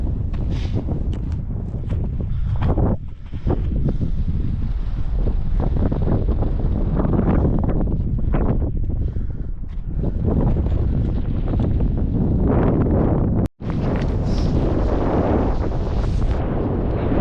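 Loud arctic winter wind buffets the microphone high on a snowy Scottish mountain, Ben A'Ghlo, roaring steadily and unbroken apart from one brief cutout near the end, with no talking.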